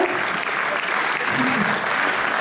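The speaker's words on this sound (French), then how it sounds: "c'est parce qu'elles attendent vos applaudissements" Audience applause at the Miss Côte d'Or 2024 beauty pageant, a steady dense clapping that fills the room throughout, with some voices faintly mixed underneath.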